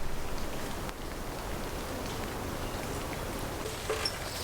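Steady rain falls over a camp beside a muddy logging road, a constant soft hiss of drops on surfaces with no voices and no breaks.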